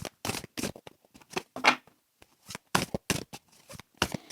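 Tarot cards are handled and shuffled for a reading in a series of short, crisp slapping and riffling bursts, close and fairly loud, separated by brief quiet gaps.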